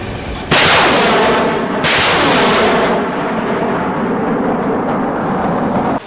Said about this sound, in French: Avant les hostilités, c'est l'artillerie qui annonce les couleurs.